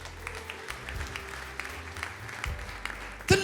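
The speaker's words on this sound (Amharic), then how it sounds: "አጨብጭቡለት።" A church congregation applauding during a service, steady rolling clapping from many hands at moderate distance, followed by a brief loud burst near the end.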